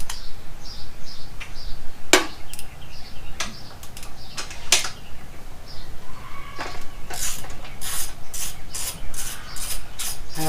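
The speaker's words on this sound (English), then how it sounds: "Half-inch bolt, take these off." Ratchet clicks in short bursts as half-inch bolts are worked loose on a Mercury Thunderbolt 200 20 hp outboard motor, sharp metallic ticks up close with brief pauses between runs and steady background noise.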